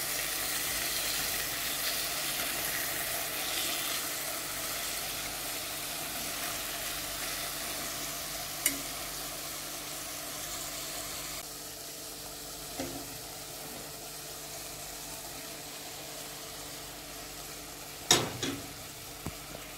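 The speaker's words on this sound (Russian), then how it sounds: "Пожарилась на одной сторонке. Сейчас переверну и добавлю лучок." Liver fries in a pan with a steady, quiet sizzle that runs the whole time. A few sharp clicks and clatters cut through it, the loudest near the end.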